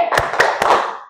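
A classroom of students claps a rhythmic 'tepuk wow' chant, a few sharp, loud bursts of hand claps in quick succession with no speech over them.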